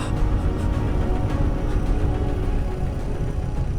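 A scooter engine drones steadily, straining continuously at a constant loud level as it labours up a steep slope, with no voices.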